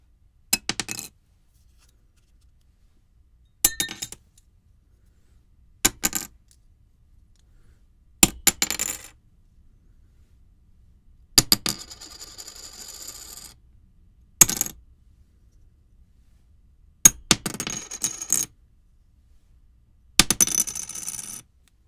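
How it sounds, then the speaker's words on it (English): Guitar picks of different materials, ranging from poker-chip-like to plastic to metallic, clicked and tapped in eight short separate bursts of close, bright clatter with silence between. "they'll range from sounding like a poker chip to just a piece of plastic to even metallic sounding"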